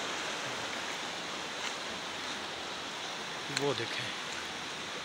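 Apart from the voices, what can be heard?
water flowing downstream at Shahdara Point, Islamabad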